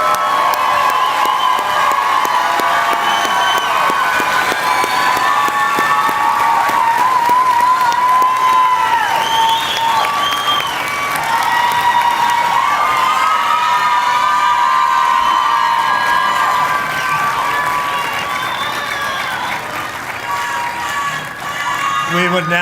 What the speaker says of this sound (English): How about a nice round of applause for all those pins?